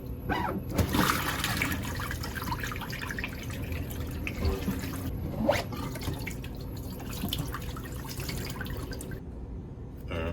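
Water pours into a 3D printed dumbbell and leaks out, making a steady close trickling and splashing with scattered drips and gurgles throughout.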